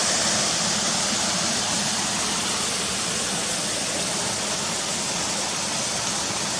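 Janet's Foss waterfall dropping into its pool, a steady, dense, unbroken rush of falling water, loud and close, with no other sounds.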